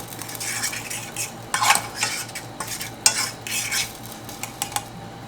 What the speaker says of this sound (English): And you're just going to let it cook until the garlic, you can smell it